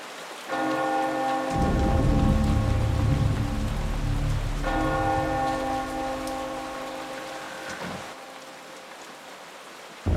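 A deep bell in the GameCube horror game Eternal Darkness: Sanity's Requiem tolls twice, each strike ringing out and slowly decaying, over a steady wash of in-game rain and ambience with no one speaking.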